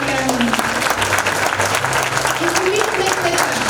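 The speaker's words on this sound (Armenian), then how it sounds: "Ես կարծում եմ պիտի ծափարենք ընկեր Սահակյանին" Steady crowd applause for teacher Sahakyan at a school's final-bell ceremony for a 12th-grade class, dense and continuous clapping with a faint tone running underneath.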